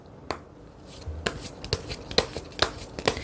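Tarot cards are shuffled close by in quick, uneven riffles and taps, crisp papery snaps building in density over a few seconds with no talking.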